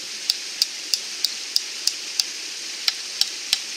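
An Esee JG3 knife is batoned through driftwood outdoors, giving about ten sharp, evenly spaced knocks at a steady pace, crisp and fairly close, with no talking.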